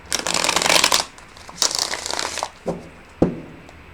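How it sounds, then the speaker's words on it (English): Tarot cards riffle-shuffled in two long crisp bursts, followed by a couple of short taps as the deck is squared, close and clear. "I'm trying to get a good shuffle on these. One more rifle and we'll go to the cards."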